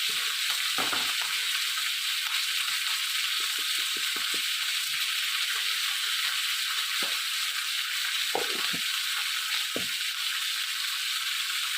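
Pointed gourd (potol) fries in a pan with a steady hiss of sizzling oil, while soft scattered clicks and taps of a utensil against the pan break through now and then.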